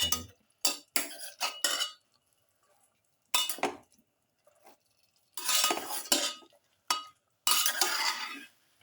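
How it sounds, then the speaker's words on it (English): Ingredients for a pepper quail dish being mixed in a bowl, heard as bursts of metal spoon clinks and scrapes against the bowl separated by pauses, close and clear with no talk. "Mix thoroughly."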